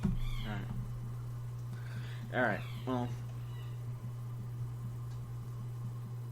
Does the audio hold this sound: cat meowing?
yes